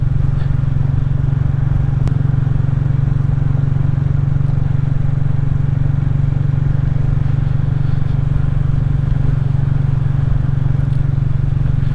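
A Royal Enfield motorcycle riding along, heard as a steady, loud low engine drone with wind rumble that continues unbroken throughout.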